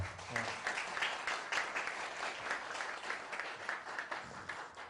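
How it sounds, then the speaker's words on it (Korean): A lecture audience in Korea claps together in a dense, continuous round of applause lasting several seconds, fairly close and even, fading slightly toward the end. "이런 얘기하는데 박수 치는 것도 처음이네."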